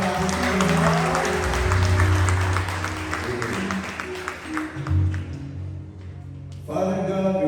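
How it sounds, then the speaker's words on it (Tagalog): A church congregation at a Sunday service applauds steadily and loudly, with music and voices mixed in underneath. "Isang malakas na palakpak pa para sa ating Panginoon."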